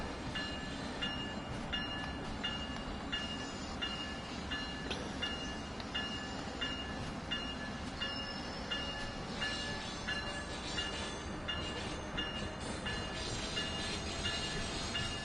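An ACS-64 electric locomotive runs on the Long Island Rail Road in Train Sim World 4. A steady rolling rumble and hum carries a regular rhythmic clacking of wheels over rail joints, with no voices.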